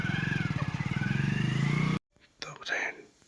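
A motorbike engine drones in a steady, pulsing rhythm for a couple of seconds, with a voice talking over it, then cuts out abruptly to near silence and a few faint rustles.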